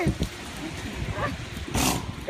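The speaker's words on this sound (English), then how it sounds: "Oh, that's a big burp." A seal at an aquarium lets out a deep, rough, guttural belch close by, with a longer burst near the end and light background noise.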